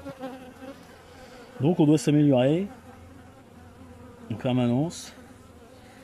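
Honeybees hum steadily around an open beehive during a hive inspection, a low continuous drone under two short stretches of French speech.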